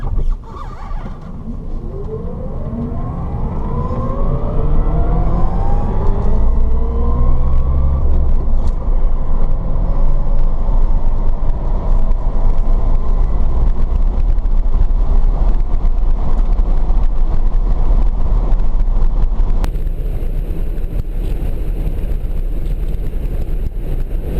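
A 1967 VW Beetle converted to electric drive on a test run, with a rising motor whine sweeping upward as it speeds up, then a steady loud road and wind rumble that holds throughout, no voices.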